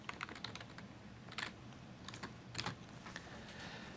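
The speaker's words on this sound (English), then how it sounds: "you can start typing in here" Typing on a computer keyboard while entering an expression in a software editor: light, irregular clicks and taps at close range, with a few louder bursts of keystrokes over a quiet background hum.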